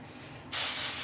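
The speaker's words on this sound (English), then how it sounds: "Spray." Hair spray from an aerosol can bursts on abruptly after a quiet moment and holds as a loud, close, steady hiss.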